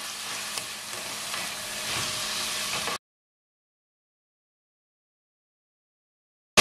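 Fenugreek, cinnamon and tomato fry and get stirred in a pan for a Jaffna-style sardine and egg curry, giving a moderate hissing sizzle that stops abruptly after about three seconds, followed by silence.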